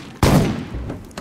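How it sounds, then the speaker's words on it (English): Pump shotgun blasts in the survival game Rust: one loud, sharp report with a decaying tail, followed by a fainter second shot about a second later. "Pump shotgun."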